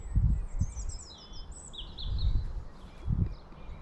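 Robin singing in a spring allotment: a series of thin, high warbling phrases, moderately distant, over soft low rustling and handling bumps, no talk.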